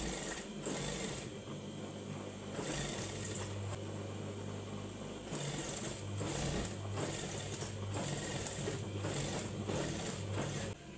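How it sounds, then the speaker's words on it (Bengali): Sewing machine stitching a six-panel round-neck dress, a continuous close mechanical whir with rhythmic pulsing that runs without a break throughout. "আমি এখানে মেশিন দিয়ে সেলাইটি দিয়েছি"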